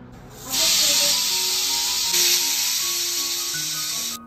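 Pressure cooker venting steam in a home kitchen, a loud continuous hiss that starts abruptly after a quiet moment, holds steady with a brief surge, then cuts off sharply at the end.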